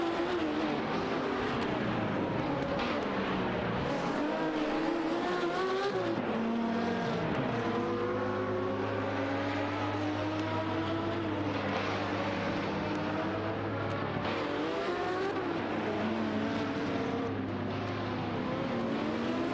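Race car engines in an AI racing game wail and shift as cars accelerate and pass, with one steady droning engine holding a low tone midway through, loud and unbroken, no voices.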